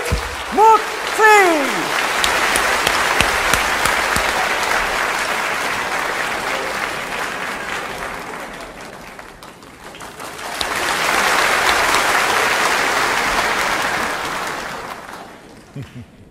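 An audience at a Vietnamese comedy stage show applauds to welcome a performer, with sustained, loud clapping that swells twice over about sixteen seconds. A voice is briefly heard near the start.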